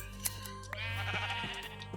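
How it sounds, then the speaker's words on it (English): Sheep bleating in the Minecraft FTB Infinity Evolved game, one drawn-out wavering bleat at moderate loudness over a steady low background hum, with a few faint clicks around it. "Sheep, sheep, and more sheep."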